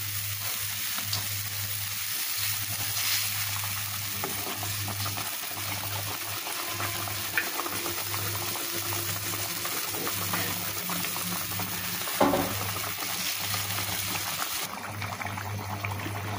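Pieces of fried fish are slipped one by one into a pot of boiling fish curry, giving steady bubbling and sizzling with soft stirring and a brief clatter, close and moderately loud, with no talking.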